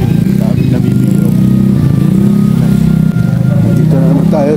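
A motorcycle engine idles and runs close by in a busy early-morning market street, a steady low rumble with slight throttle changes, with people's voices and crowd noise around it.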